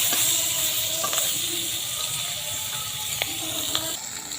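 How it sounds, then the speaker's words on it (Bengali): Catfish pieces fry in hot oil in a pan for a Bengali magur fish curry. The sizzle is dense and close, with a few sharp crackles and spatters, and no talk. "মাছ ভাজার সময় একটু সাবধানে ভাজতে হবে নাহলে গায়ে শিখতে যেতে পারে"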